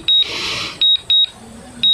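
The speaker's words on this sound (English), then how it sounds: "You can hear it beeping." Short high electronic beeps from a DJI drone returning home repeat at irregular intervals, loud and close, over a soft whoosh of wind and faint background sound.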